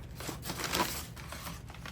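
Paper packing crumpled by hand while unboxing a makeup mystery box, a brief close crinkling rustle lasting a couple of seconds.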